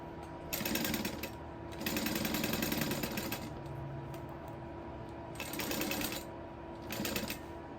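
A sewing machine back-stitches a leather sling bag in several short, loud, rapid mechanical runs separated by quieter pauses, with a low motor hum throughout.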